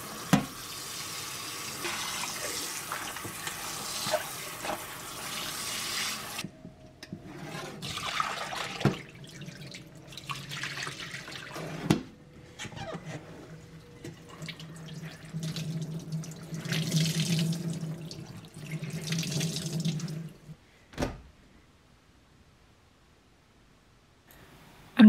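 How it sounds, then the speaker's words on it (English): Tap water runs into a sink while a machine-knitted pinafore dress is rinsed several times, splashing and sloshing in starts and stops with a brief gurgling drain near the end. "And then I'm rinsing it a few times."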